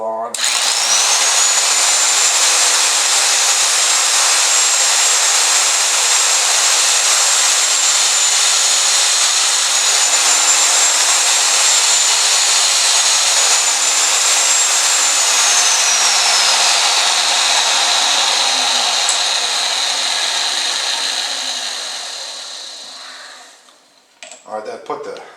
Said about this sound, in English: Turn it on, turn the drill on.